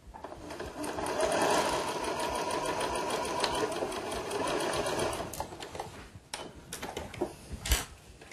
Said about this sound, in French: Je vais ensuite à la machine pour aller plus vite faire une couture à 1 cm du bord